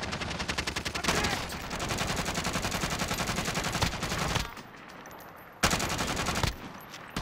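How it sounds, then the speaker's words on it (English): Loud, continuous automatic gunfire rattles through a video game shootout with a drone overhead, rapid bursts hammering for several seconds, a brief lull, then another sharp burst of shots. "They're shooting at me."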